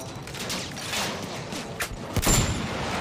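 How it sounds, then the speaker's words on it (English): Battlefield 1 rifle shots boom out a few times amid a steady rumble of battlefield noise, with a sharper, louder crack near the end. "There is a field gun, but I'm still determined to use the rifle."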